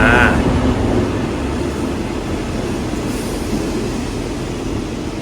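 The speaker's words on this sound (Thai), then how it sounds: "เรามาดูรถไฟรับห่วงกันบ้างนะครับ" Express train 135 rolls loudly through a station with a dense, continuous rumble of wheels on rails, heard close by. An opening squeal or clank may come from the token hoop being caught.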